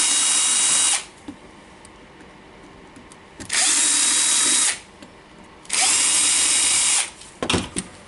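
A cordless power tool whirs in three steady bursts while unscrewing the housing of a Makita DDF484 drill. Each burst lasts about a second, with quiet gaps between them and a few small clicks near the end.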